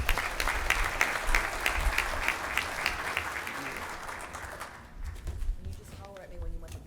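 An audience at a breakfast sponsor event claps steadily for several seconds, a dense patter that fades out. Near the end a voice speaks.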